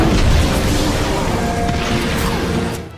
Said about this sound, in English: All of the shooting and explosions in this game make it feel like a Michael Bay movie come to life